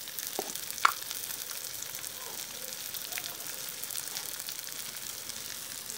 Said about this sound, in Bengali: শুটকি আর পেঁয়াজগুলো হালকা একটু ভাজবো।